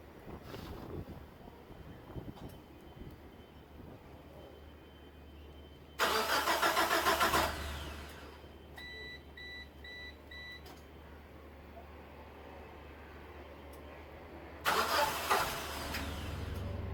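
A 1996 Geo Tracker that has sat for about a year and a half cranks and tries to start twice, each a loud close churning burst of a few seconds over a low idle rumble and steady wind noise outdoors.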